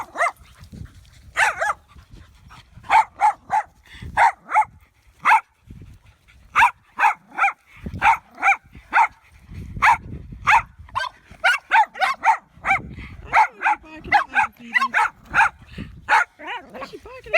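A dog barks repeatedly outdoors on an allotment, sharp, loud barks in an irregular series, some in quick clusters, with brief gaps and a voice speaking in between.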